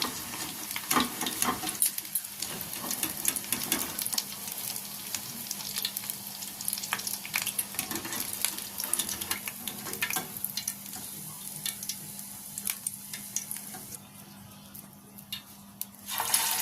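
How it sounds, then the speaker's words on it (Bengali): Small shrimp fritters made with rice flour fry in hot oil, giving a steady, close crackling sizzle with scattered pops and light clinks of a utensil, with no talking. "এরকমভাবে সবগুলো ভেজে নেব"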